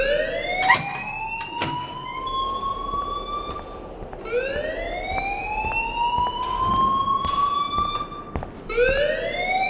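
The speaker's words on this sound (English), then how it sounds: "please turn off that alarm since that's your job" A school alarm in the video game Life is Strange wails loudly in rising, siren-like sweeps that repeat several times, with a busy background underneath.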